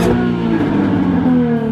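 A supercharged Jaguar F-Type engine revs with a steady high-pitched supercharger whine over a deep motor drone, loud and close, heard from inside the cabin.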